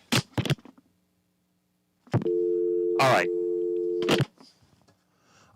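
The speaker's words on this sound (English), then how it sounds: "I forgot to turn off the phone system and it went into the menu." A steady phone system tone from a call that dropped into the menu plays loudly for about two seconds, with short bursts of talk before, during and after it.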